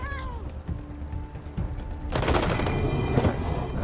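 Gunfire in the post-apocalyptic winter setting of Wasteland 3, with a sudden loud volley of shots and crashing impacts after a quieter stretch of tones and game ambience.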